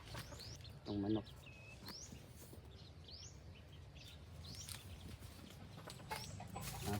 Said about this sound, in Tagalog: Itong manok.